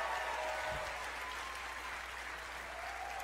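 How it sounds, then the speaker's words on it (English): Church congregation applauding for children's pastors at a family gathering, sustained steady clapping from a large crowd, fairly faint and even throughout with a low thump early on. "We're clapping for you."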